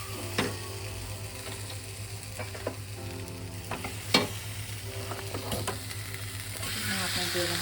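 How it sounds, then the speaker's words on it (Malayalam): Marinated mutton frying in a pot for biryani, a steady close sizzle broken by scattered clinks and scrapes of stirring, with no speech over it. "അപ്പം ഈ മട്ടനെ നമ്മുടെ ഇതിലേക്ക് ഇടാം."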